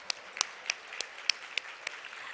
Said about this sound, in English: Let's give Michelle and Sherilyn another round of applause.